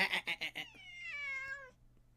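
A cat meows nearby, a long drawn-out tonal cry that falls in pitch, preceded by a few quick rustling thumps and followed by quiet.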